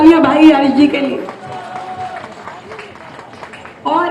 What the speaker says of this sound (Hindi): एक बार जोरदार तालियां भाई हर्ष जी के लिए।